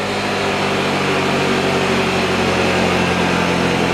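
A Yamaha RayZR 125 scooter engine runs steadily on a dynamometer, producing a constant, loud, even drone with no change in pitch across the stretch and no talking.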